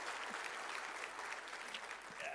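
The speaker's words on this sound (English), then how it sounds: "Clap your hands one more time for this great presentation" A church congregation at a Christmas Sunday service claps in steady, dense applause that fills the space evenly for a couple of seconds, with no voices standing out.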